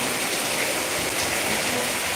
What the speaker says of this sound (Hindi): मस्त एकदम झकास बारिश हो रही है आज तो हमारे यहाँ भी बारिश हो रही है।